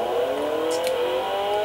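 A MkII Ford Escort engine drones and rises gently in pitch at low revs on the Nordschleife, close and steady throughout.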